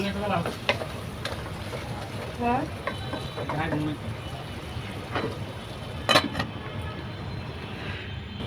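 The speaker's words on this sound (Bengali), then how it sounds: "এই পর্যায়ে আমি অল্প পরিমাণে গেবি দিয়েছি আবারও নাড়াচাড়া করে নিচ্ছি" Mixed vegetables with dried fish being stirred in a pot, a spatula scraping and clinking against metal over a constant background sizzle, with occasional faint voices.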